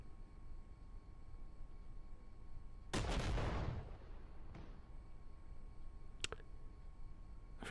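The 140mm main gun of a Leopard 2A7 tank in the Armored Warfare video game fires one loud, booming shot that rolls away over a second, followed by a quieter mechanical thud and a couple of sharp clicks, all above a steady low hum.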